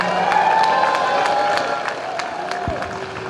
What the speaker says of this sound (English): Let's hear another round of applause, ladies and gentlemen.